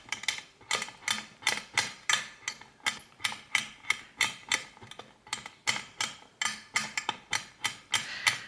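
A knife chops through conditioned polymer clay in quick, evenly spaced strikes, a steady series of sharp, close taps against a hard board, with no talk.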